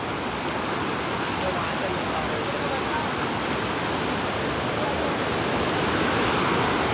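Rushing water at Anjankund in Dang, Gujarat during the monsoon, a dense, loud, constant roar of fast-flowing water filling the whole stretch without a break.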